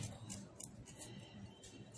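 Washed plant leaves being cut and peeled for homemade gel, a few soft, faint scraping and snipping strokes at an irregular pace, close by in a quiet room.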